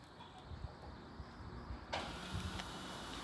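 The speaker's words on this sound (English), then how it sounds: "you'll hear the mover start to unwind the wheels" A caravan motor mover on a 2017 Bessacarr Cameo 650 starts up and begins unwinding from the wheels: a quiet background hum, then a sudden, steadier mechanical whir from about two seconds on, close by.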